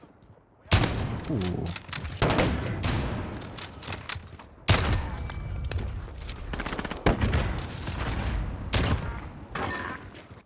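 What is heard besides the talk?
sniper rifle gunfire in Modern Warfare video game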